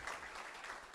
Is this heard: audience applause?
yes